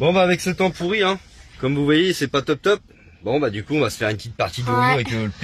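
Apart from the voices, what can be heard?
No everyday noise stands out behind the speech.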